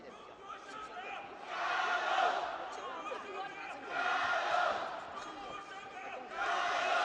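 A home crowd at a women's 60 kg sanshou World Cup final between China and Vietnam swells into cheering in repeated waves, rising and falling across the arena beneath ongoing commentary.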